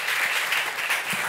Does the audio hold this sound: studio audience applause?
yes